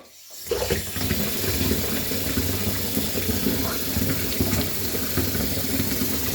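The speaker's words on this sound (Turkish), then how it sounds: "Şimdi köpüklenmesi için musluk yapacağım." A tap runs into a filling bath to whip up foam for a shower or bath, a steady close rush of water that starts abruptly and continues without letting up.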